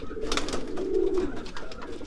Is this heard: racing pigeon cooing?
yes